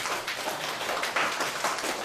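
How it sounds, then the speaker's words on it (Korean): Brief scattered applause from a lecture audience at a library talk on real estate auctions, a soft patter of clapping hands lasting about two seconds. "그럼 제가 박수 조금만 받고요"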